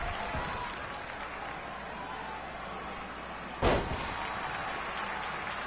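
Steady crowd applause at a wrestling match fills the whole stretch, a continuous wash of clapping with a sharp thud or slam partway through and faint voices underneath.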